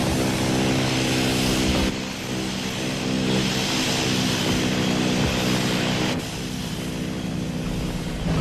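Low-altitude flight of an airliner, Flight A303, 300 metres over New York harbor, as a sound effect: a steady, loud broadband engine roar held throughout with a brief dip near two seconds and another shift near six seconds.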